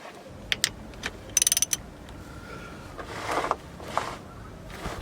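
Ratchet undoing a bolt underneath a Ford Transit, giving a few quiet separate clicks and then a quick run of rapid ratcheting ticks, followed by softer scraping and creaking of metal nearby.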